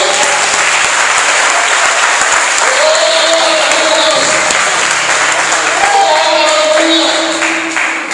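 A church congregation applauds steadily and loudly throughout, dense clapping filling the room, with voices cheering and calling out beneath it.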